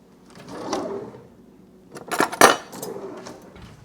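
A kitchen drawer is rummaged for a spoon while making sourdough pizza dough, with a soft sliding rattle followed by a sharper clatter of metal cutlery, close and brief.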